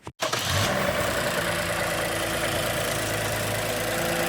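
A Lexus engine fitted with a Takeda cold air intake starts up and settles into a loud, steady idle close by, running continuously after a brief cranking burst.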